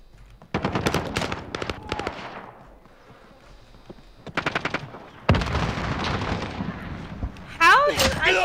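Gunfire from Call of Duty: Modern Warfare comes in several loud bursts of rapid shots, broken by short pauses, with game effects and a rising tone near the end.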